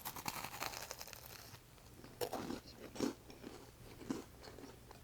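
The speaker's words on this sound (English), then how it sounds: "Can you hear that crunch?" Someone eats shrimp fettuccine Alfredo close to the microphone, producing a few soft, distinct crunching bites between quiet pauses.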